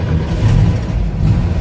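A car engine starts and runs after an exhaust repair, giving a loud, close, low rumble that churns steadily throughout with no talking.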